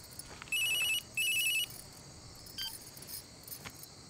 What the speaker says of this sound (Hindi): देखो तो फोन है किसका।